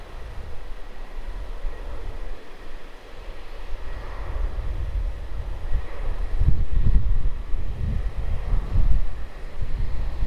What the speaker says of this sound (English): Qantas 448, runway 34, cleared for takeoff